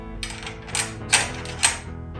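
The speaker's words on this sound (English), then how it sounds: "I don't know if you can hear that clicking sound." Clicking of a saw-set gauge being moved along the teeth of a crosscut saw, a few distinct clicks about half a second apart over a steady background, close and moderately loud.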